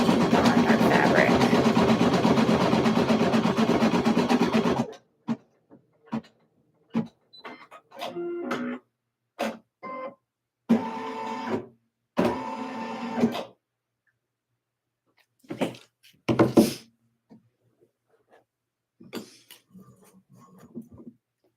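An embroidery machine stitches out a design for an Etsy order, giving a loud, dense mechanical whir for the first five seconds, then broken into short bursts and pauses with clicks and thumps.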